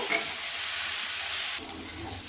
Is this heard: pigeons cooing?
no